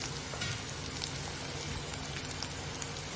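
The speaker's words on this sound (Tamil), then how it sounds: "வெங்காயம் கொஞ்சம் வதங்கட்டும்." Onions sauté in a pan for bitter gourd thokku, a soft continuous sizzle with faint crackles and light stirring, close but quiet with no talk.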